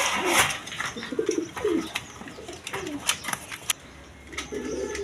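Pigeons kept for sale coo in short, repeated throaty bursts, close and fairly soft, with faint background clatter and a little voice underneath.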